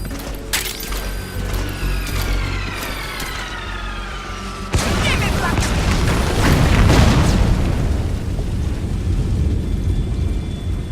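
A support strike explosion in Metal Gear Solid 5 hits as a loud low boom at about five seconds, after mechanical clicking and whirring, then rolls into a sustained rumbling roar that stays loud to the end.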